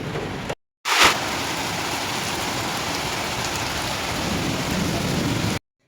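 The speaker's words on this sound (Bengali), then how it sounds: "বেশ জোরেই কিন্তু বৃষ্টিটা আজকে হয়েছে।" Heavy rain pours down in a dense, steady roar during a storm under dark clouds, with a brief loud crack near the start that may be thunder. There is no talking, and the sound cuts off abruptly at both ends.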